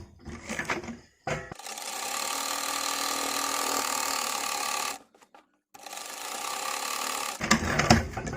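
A sewing machine edge-stitches a fabric strip folded to the back for a baby kurti, running in two long steady bursts separated by a short pause, with brief handling clatter before and after.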